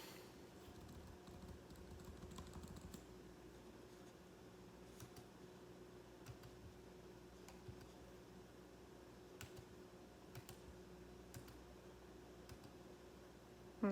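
Keys tapped on a computer keyboard to enter an inverse tangent calculation, sparse quiet clicks spaced a second or so apart over a faint steady hum, no talking.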